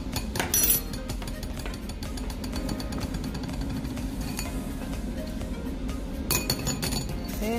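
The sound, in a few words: spooning powder into a strainer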